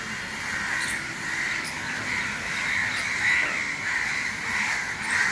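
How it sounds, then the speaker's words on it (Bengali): Repeated harsh caws come from a crow, rising and falling in uneven bursts against a low background rumble. "এই যে দেখো কাকটা"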